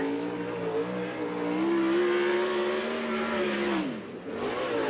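Dodge Mopar-powered USAC/CRA sprint car screaming around a dirt oval in Alger, Washington, its loud engine pitch climbing and sweeping, then dropping sharply as it dives into a turn.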